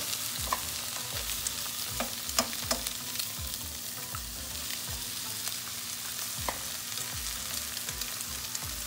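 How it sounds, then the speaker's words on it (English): Eggs cracked straight into a hot pan for a breakfast hash, frying with a soft continuous sizzle and scattered crackles and pops, fairly quiet and close, with no voices. "I'm going to crack the eggs directly in to the pan."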